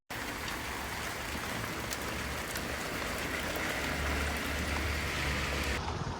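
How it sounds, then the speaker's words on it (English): Heavy summer rain pours steadily, a dense, even hiss of falling water close by that keeps going without pause for the whole stretch. "The rain, it was a lot, man, I'm telling you."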